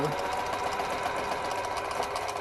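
A sewing machine stitches fabric in a fast, steady mechanical whir that runs unbroken and close throughout.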